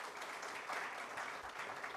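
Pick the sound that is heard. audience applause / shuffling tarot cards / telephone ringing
audience applause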